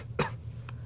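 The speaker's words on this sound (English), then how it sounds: "There's a coughing." A single short cough bursts out near the mic during Pokémon game commentary, followed by a fainter second burst, over a steady low hum.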